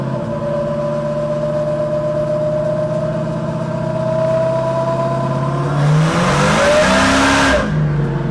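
An E85 turbocharged car running 14 pounds of boost revs on a dyno in third gear, its engine tone climbing steadily and loudly before surging to a roaring peak near the end.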